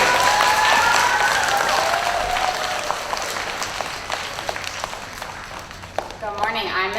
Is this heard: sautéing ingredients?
no